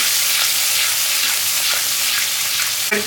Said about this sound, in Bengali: টক দইটা দিয়ে অনবরত নাড়তে লাগবে